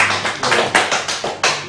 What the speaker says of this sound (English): Let's just clap for